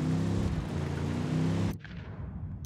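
Explosions from a cartel truck blown off the road in Ghost Recon Wildlands, a dense, loud rumbling blast that rolls for over a second and a half, then cuts off into a quieter fading tail.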